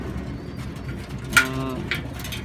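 An injured white pigeon in a cage gives a soft coo, plus a second brief one, close by over a low background hum.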